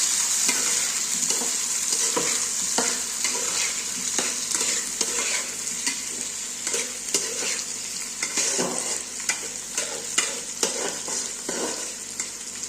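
Tomatoes sizzle and fry in a hot pan while being stirred, a continuous crackling hiss broken by repeated scraping strokes of the spoon, close and fairly loud with no talk.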